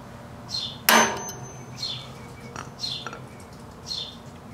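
A metal punch strikes a motorized bike's 3HP four-stroke engine shaft once, a single sharp, close metallic tap that rings briefly and fades, with faint chirping sounds scattered before and after.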